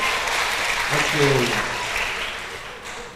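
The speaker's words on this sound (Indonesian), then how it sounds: "yuk kasih tepuk tangan dulu Bapak Ibu" Church congregation at a GBI service in Medan clapping together, a broad steady wash of applause filling the hall at moderate loudness, with a voice speaking over it.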